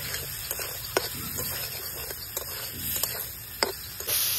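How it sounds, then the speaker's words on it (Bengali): Rita fish masala with salt and turmeric stir-fried in a kadai: a soft, steady sizzle broken by intermittent spatula clicks and scrapes, close and moderately quiet. "এবার ভালো করে কষিয়ে নেব।"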